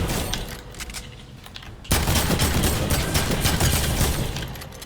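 Gunfire in the Fortnite video game during a boss fight: a dense, loud, continuous rattle of automatic shots that turns heavier and more intense partway through, with no talk.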